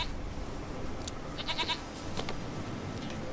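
A goat bleats in a rural area of The Witcher 3: Wild Hunt, a few short wavering calls at moderate distance over a steady bed of ambient game sound, with no talk.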